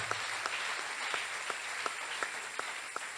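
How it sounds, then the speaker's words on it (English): A few scattered, faint hand claps ring out roughly evenly spaced against a steady hiss of room noise at a prophet's love-talk gathering, with no voices in between. "you can clap"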